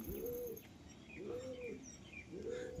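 Pigeons coo nearby in a coop in three slow, evenly spaced rolling calls, with faint chirps and a soft background hum and no talking.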